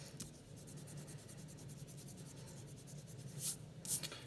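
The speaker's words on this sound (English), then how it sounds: "So I'm gonna erase that definition so I could have some extra room here." Soft rubbing of an eraser across a classroom board during a physics lesson, a steady faint scrubbing texture running throughout, with two brief brighter swipes near the end.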